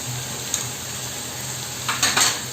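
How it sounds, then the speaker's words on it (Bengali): A spoon stirs fried tomatoes with salt in a pan for mixed dal tadka, giving a soft sizzle under a couple of brief scraping clinks of utensil against metal near the end. "নুনটা দিয়ে একটু নাড়াচাড়া করে নিতে হবে।"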